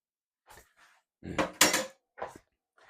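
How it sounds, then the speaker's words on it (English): Rubber spatula scraping homemade Caesar dressing from a mixing bowl, a few short scrapes and knocks, with a louder burst of clattering bowl contact in the middle and quieter strokes at either end. "try and scrape it all out of the bowl as much as you can"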